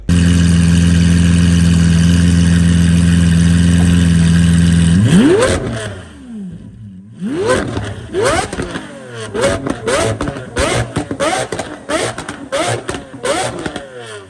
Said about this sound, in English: I'm gonna warm it up and give it a few revs and see what it sounds like